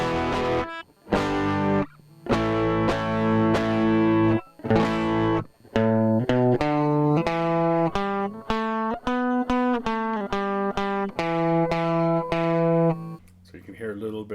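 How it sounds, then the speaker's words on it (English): Electric guitar played through a subtle distortion pedal with the tone set to the middle, a series of picked notes and chords ringing with slight grit, steady and close with brief pauses between phrases. "Hear a little bit of distortion there."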